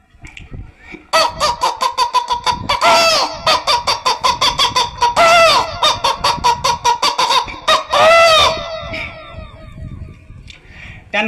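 A person imitates a hen clucking at a memorial gathering: loud, close bursts of rapid clucks, broken by a few drawn-out, rising squawks that repeat in quick rhythm throughout.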